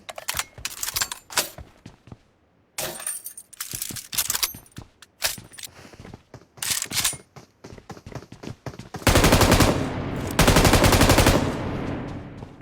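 Rapid bursts of video game gunfire from a fast-reloading pair of guns in a ranked match, loud, close and sharp, coming in repeated volleys with brief pauses and a dense sustained barrage near the end.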